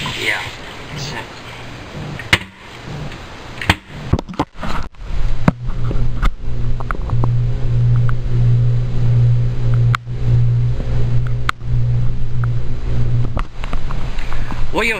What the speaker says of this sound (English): What you're hearing there is the vibration coming through the wall from the air conditioning unit.